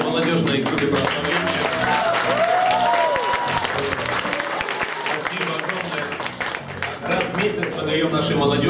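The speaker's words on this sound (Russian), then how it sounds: "Давайте еще аплодируем молодежной группе прославления." A church congregation applauds the youth worship band, with loud, dense clapping filling the hall alongside music and cheering voices, easing slightly near the end.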